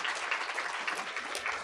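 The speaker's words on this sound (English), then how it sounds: "Yes, we can clap for that." Audience clapping at a university gender and equality center dedication, a steady dense round of applause filling the short stretch at even loudness.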